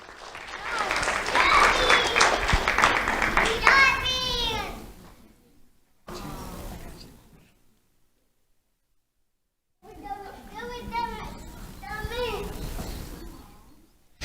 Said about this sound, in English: Round of applause for Jamario Doston.